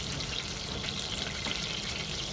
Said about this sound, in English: When your butter is melted, I add a little bit of thyme, a little bit of dry thyme.